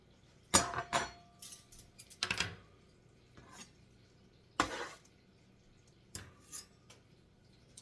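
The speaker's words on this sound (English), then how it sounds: "I hand washed my mixer bowl and some other things" Hand washing a stand mixer bowl and other dishes in a kitchen: a few sharp clinks and clatters of bowl and utensils in separate bursts with quieter gaps, close by and moderately loud, no talking.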